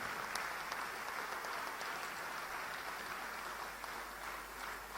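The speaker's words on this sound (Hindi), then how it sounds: "ये तालियां लगातार बजती रहें जब तक रोहित और उनका परिवार यहां पर हैं।" An audience honouring an Olympian and his family claps continuously, a steady, fairly distant patter of many hands that holds at an even level throughout.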